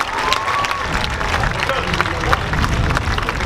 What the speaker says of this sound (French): On va l'applaudir encore très fort